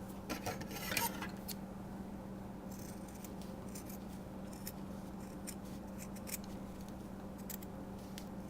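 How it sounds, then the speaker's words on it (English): Scissors snip away excess fabric on a handmade wreath rosette, a cluster of quick close cuts at the start followed by scattered faint snips and rustling over a low background hum. "And then we'll just trim off that excess fabric."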